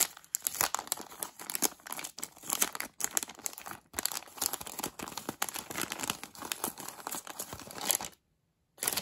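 Kraft paper wrapping on an advent calendar package crumples and tears as taped paper is pulled open, close and continuous with crinkling bursts, then a brief silence near the end; no talking.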